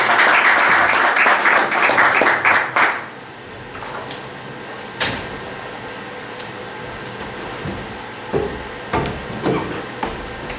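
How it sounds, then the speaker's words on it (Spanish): An audience at a lecture on the phenomenology of love claps loudly for about three seconds. The applause then dies away into quiet room hiss broken by a few scattered knocks and shuffles. "también un aplauso para vosotras"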